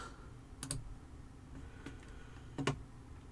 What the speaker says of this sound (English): Type in Ubuntu.